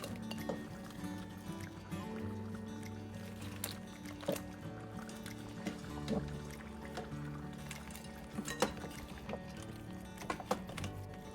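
Crab legs dropped one by one into a pot of Jamaican-style curry, making scattered clinks and taps over a steady sizzling, bubbling background, close and moderately loud.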